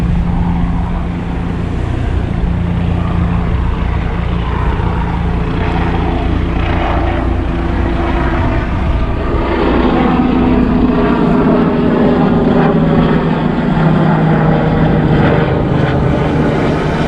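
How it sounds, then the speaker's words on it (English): A helicopter passes over an inlet at high tide with big waves, its loud, steady rotor and engine drone shifting pitch as it moves, layered over a constant rush of surf. "Comes a helicopter."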